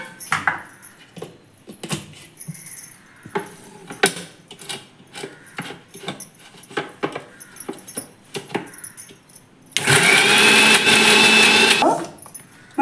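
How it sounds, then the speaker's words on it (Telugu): Scattered kitchen clatter and knocks lead up to an electric mixer grinder starting up loud and close, whirring steadily for about two and a half seconds as it grinds onions with tamarind for a spicy chutney, then stopping. "కొన్ని ఈరుల్లి సగం వేసి మిక్సీ తిప్పాలి."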